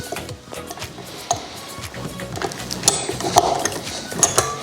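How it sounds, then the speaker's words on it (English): A whisk attachment is fitted onto a stand mixer, heard up close as scattered small metallic clicks, taps and rattles. The clicks are irregular and get busier and louder toward the end, with no talk. "we're going to replace the paddle with a whisk attachment"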